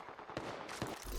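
Close, dense gunfire from a video game shooter: two sharp reports stand out over a busy, continuous noisy backdrop in a very short burst.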